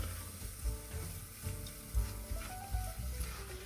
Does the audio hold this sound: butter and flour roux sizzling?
yes